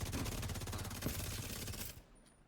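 Rapid sustained automatic gunfire in The Division 2, aimed at a small mini tank, a dense continuous burst that runs loud for about two seconds and then cuts off into near silence.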